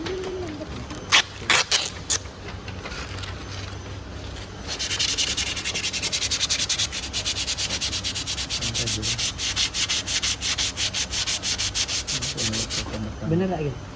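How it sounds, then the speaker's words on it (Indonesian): Sandpaper scraping back and forth over a rusty metal surface, a steady run of rapid rhythmic strokes after a few sharp knocks and scrapes, loud and close. "Jadi amplas yang bagian karat ini ya Pak?"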